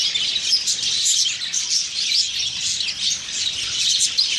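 Budgies in a breeding cage squabbling, a dense, loud stream of sharp chirps and chattering calls with no pauses, alone without talk.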